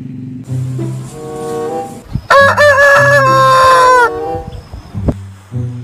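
A rooster crows loudly and close by in one long, strained cock-a-doodle-doo, with a few clucks and short calls before and after.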